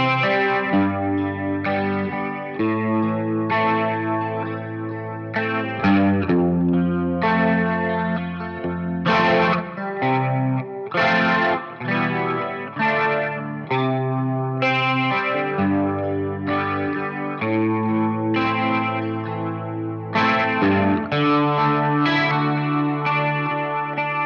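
An effected electric guitar plays the full verse of a song, with sustained chords and ringing, chorus-tinged tones moving through changes at a steady, loud level for over twenty seconds, with no voice.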